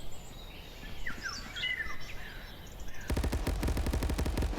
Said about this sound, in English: Ghostmaker hears those gunshots and he now knows